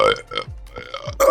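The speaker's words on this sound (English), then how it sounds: "I need to burp again" A short, close burp, with a couple of brief vocal sounds around it.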